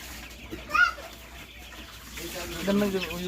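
Tiger chickens cluck on a farm, a couple of short calls rising above a steady ambient background, with quiet talk from people nearby.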